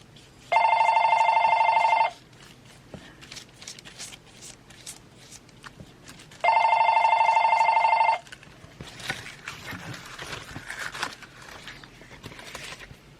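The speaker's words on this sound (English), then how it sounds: "sorry about the phone." A landline telephone rings twice indoors, each ring a loud, even electronic trill lasting about two seconds, followed by quiet rustling and tapping of craft papers being handled.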